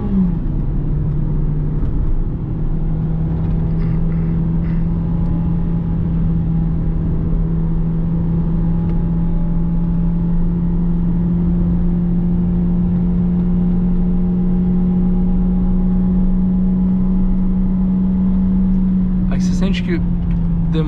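Peugeot 2008 1.6 automatic from 2020 climbs a mountain road uphill, its engine holding a steady, labored drone that rises slowly in pitch under continuous road and wind noise, with a brief clatter near the end.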